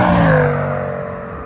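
A 2022 Jaguar F-Pace SVR engine revs loudly up close, a throaty rising note with exhaust burble that eases slightly as it settles over a second and a half, no talking.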